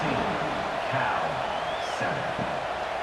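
Simulated stadium crowd at a California versus USC college football game, a steady broad roar with scattered whoops and cheers, continuous and moderately loud under a commentator's voice.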